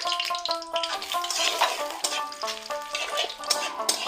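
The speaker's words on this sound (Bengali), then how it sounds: "তেল দিয়ে দিলাম। বন্ধুরা আমি তেজপাতা আর মরিচ দিয়ে দিলাম।" Bay leaf and chili dropped into hot oil, frying with a steady bright crackle and spitting sizzle that keeps up throughout, close and moderately loud.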